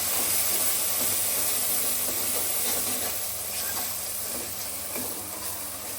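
Tomatoes, green chilies, salt, red chili and turmeric frying for a masala give a steady, close hiss and sizzle that continues without a break and fades slightly toward the end.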